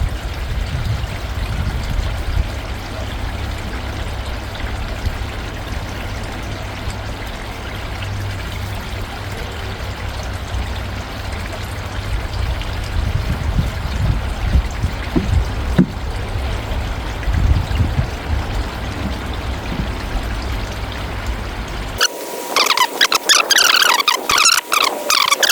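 A pond pump runs and pushes water into a bog filter, giving a steady, close pouring and trickling flow that carries on for over twenty seconds before the sound cuts abruptly to a different, brighter noise at the end.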